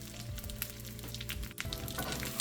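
Chopped walnuts sizzle and crackle steadily in hot oil in a pan, a dense, close frying hiss with brief scraping and stirring bursts, no voices.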